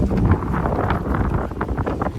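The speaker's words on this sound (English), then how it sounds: "It's windy." Gusty wind buffets the microphone outdoors beside a parked Dodge Charger RT, producing loud, close, uneven low rumbling and rushing bursts for a couple of seconds, with no speech.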